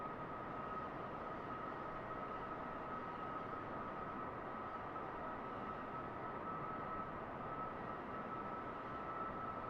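A Boeing 747 Dreamlifter's engines in Microsoft Flight Simulator 2024 make a steady, unchanging broadband roar with a faint high whine, continuous and even throughout.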